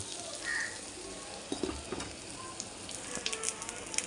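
Thick dibba rotti batter cooks in a covered pan over a low flame, making a quiet steady sizzle with faint crackles and small pops scattered through, heard close and alone without talk.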